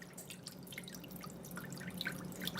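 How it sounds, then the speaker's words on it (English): Water pouring and dripping into a roasting pan holding a 20-pound turkey, a steady faint trickle with small splashy drips throughout and no talking. "We're going to get a small amount of water, approximately 4 cups, and we're going to add it to the roasting pan"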